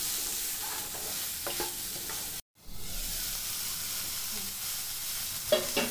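Chopped mushrooms with garlic, black pepper and salt sauté in a pan, giving a steady, bright sizzle with occasional stirring scrapes and a brief dropout midway.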